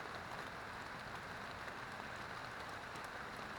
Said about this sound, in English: I just hope the rain lets up